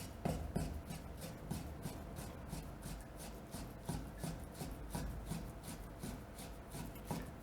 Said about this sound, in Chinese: 再横过来，再切一下